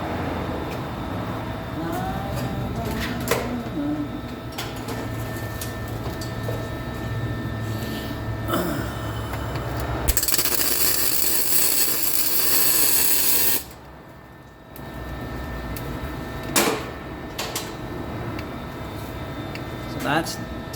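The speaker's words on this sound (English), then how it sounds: "I'm going to tack weld that one piece so it doesn't move." An exhaust flex pipe on a 2017 Honda CR-V is tack welded, giving a loud, close burst of crackling hiss amid garage noise, with a person talking around it.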